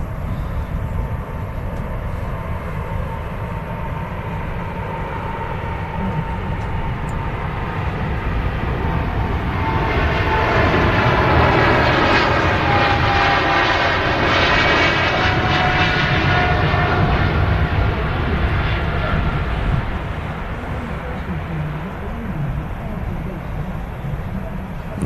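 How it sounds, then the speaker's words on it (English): A Qatar Airways Boeing 777-300ER takes off from Manchester Airport bound for Doha, its engines roaring loud and steady as it rolls, building to a peak midway and then slowly easing. "777 on the roll, Qatar, here we go."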